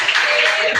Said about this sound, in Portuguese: E mais palmas para Jesus.